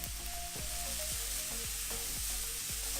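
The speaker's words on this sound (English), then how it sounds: "Look at that sizzling sound." Instant noodles sizzle and fry in a pan with a splash of soy sauce, a steady loud hiss with crackling that runs unbroken throughout, and faint stirring scrapes recur every half second or so.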